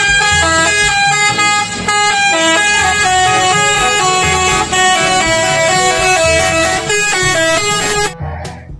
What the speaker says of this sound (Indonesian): di sini ada mobil bus telolet.